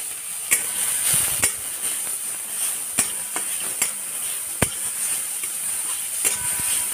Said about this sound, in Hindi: एई समय आमरा कुड़ानो गाजरटा दिए दिलाम, दिए घी मध्य भालो करे फ्राई करे नेब